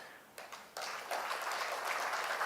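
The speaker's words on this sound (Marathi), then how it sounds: "बोललं की लोक छानपैकी टाळ्या वाजवल्या, तुम्ही वाजवल्या" An audience at a spiritual talk on avoiding defeat in life breaks into applause, which swells in two steps into a dense, steady patter of many hands clapping at moderate loudness, with no voices heard.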